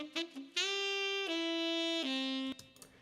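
Second saxophone part from a horn arrangement, heard alone as a recorded track: a short pickup of notes, then three long sustained tones stepping downward, bright and close, ending abruptly.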